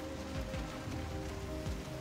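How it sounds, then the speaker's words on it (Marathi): Heavy rain falls in Germany as a steady, dense hiss of drops hitting surfaces, loud and continuous for the whole stretch with no voices. "आणि पाऊस पण खूप मोठा येतो."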